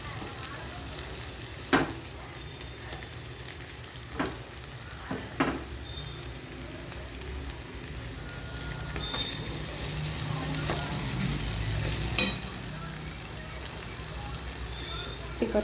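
Okra frying in a pan of hot oil with ginger-garlic paste, a steady soft sizzle broken by occasional scraping stirs of a spoon, fairly quiet and continuous.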